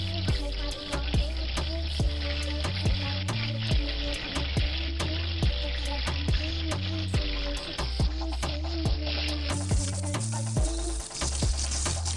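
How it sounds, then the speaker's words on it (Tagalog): Garlic sizzles in hot cooking oil in a pan for miki guisado, a steady frying crackle that runs throughout beneath a loud, rhythmic musical backing. "At kapag mainit na ang ating mantika mga idol ay ilalagay na natin yung ating bawang."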